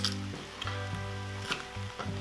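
Minced garlic sizzles in a pan for a beefy bourbon chili, a faint steady hiss with a few light scrapes, under soft background music.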